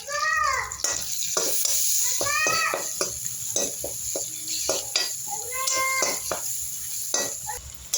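Tomatoes fry with ginger and garlic in a pan for a chicken dish, a constant sizzle broken by clinks and scrapes of stirring, with voice-like calls rising over the cooking at intervals.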